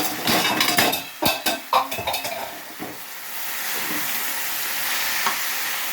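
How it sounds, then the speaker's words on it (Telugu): Ivy gourd pieces drop into a pan with sharp clatters and scraping spatula strokes, then settle into a steady, soft sizzle of frying with no voices. "దొండకాయ ముక్కలు కూడా వేసేసుకుంటాం."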